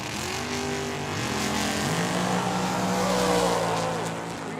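Drag race cars launching side by side at Tucson Dragway, a loud continuous engine roar that climbs in pitch as the cars accelerate away, with the crowd and track ambience behind.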